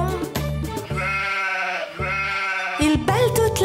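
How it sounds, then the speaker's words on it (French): Sheep on a farm bleat again and again in a children's song, the wavering bleats overlapping with bright musical accompaniment throughout. "Il bêle toute la journée"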